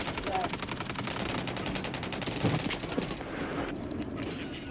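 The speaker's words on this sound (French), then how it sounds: "on utilise du coup la Striker normale avec le canon long Daily Striker, le silencieux Sonic" Striker gun with a long barrel and a suppressor fires in the Warzone video game in fast automatic bursts amid dense battle noise. The firing fades toward the end.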